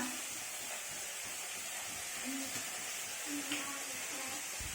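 Prawns fry in cumin paste for a Bengali jackfruit curry, making a soft, continuous sizzle and hiss at low level, with faint background sounds and possible distant voices.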